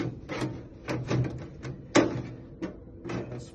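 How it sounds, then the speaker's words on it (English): A desktop computer case cover is slid and pressed into place after a power supply swap, making a few close scraping slides and a sharp clunk as it seats. "the final step is the final nail on the coffin, and which is to just put the cover on."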